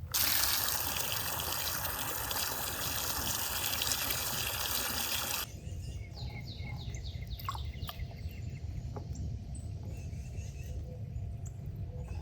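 Fresh water gushes loudly into a garden bird bath, then cuts out partway through, leaving quieter trickling with birds chirping nearby.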